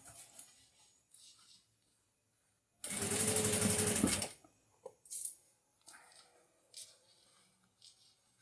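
A sewing machine stitches fabric along a marked line, ending with a backstitch. It runs in one loud, steady burst of about a second and a half, with faint handling noises of fabric before and after.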